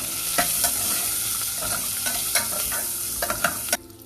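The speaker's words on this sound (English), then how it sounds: "Add these onions and saute them." Onions sautéing in a pan for Karnataka-style avarekalu sambar, with a steady bright sizzle throughout and several stirring scrapes, close and loud, cutting off near the end.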